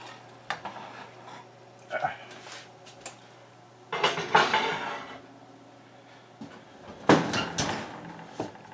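Cast iron pan of corn dogs going into an oven, the door shutting with a couple of sharp metallic clunks and clatters amid quieter kitchen handling noises.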